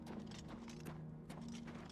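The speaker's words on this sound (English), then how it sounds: "to be able to ride a horse" Hooves of a horse being ridden in Oblivion Remastered, a quick steady clip-clop of repeated hoofbeats, quiet and even over a low hum.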